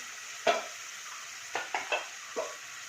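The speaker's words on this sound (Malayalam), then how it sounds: "അപ്പോൾ ഇനി നമുക്ക് നിന്ന് വഴറ്റുക എന്ന് പറഞ്ഞത് വളരെ സമയമെടുക്കുന്ന ഒരു പരിപാടിയാണ്" Onions sautéing in a pan with salt and turmeric, heard as a soft background sizzle broken by several sharp stirring scrapes and clinks, one near the start and a quick cluster later, with no talking.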